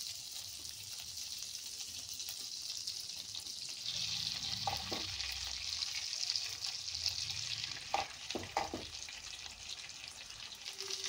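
Chicken pieces frying in melted butter in a pan, a steady close sizzle that swells as the meat goes in, with a few sharp clinks and stirring knocks partway through.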